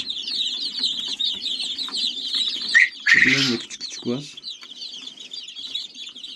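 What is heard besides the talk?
Australorp chicks cheeping in coop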